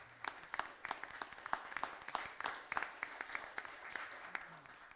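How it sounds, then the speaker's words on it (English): At a Sheridan town council meeting, a room of people gives a round of applause, with steady moderate clapping that lasts about five seconds and sounds somewhat distant and quiet. "I'd like to give them a round of applause for."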